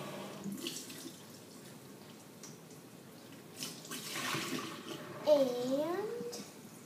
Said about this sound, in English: Rinse it out a couple more times to make sure you get all the suds out.